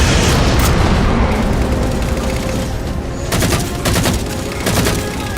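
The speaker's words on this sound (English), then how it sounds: "Target those phantoms for the railgun to shoot down." A railgun shooting down Phantom dropships in the Halo 4 video game, heavy booming blasts amid dense gunfire, with a run of sharp repeated cracks in the second half over a constant battle roar.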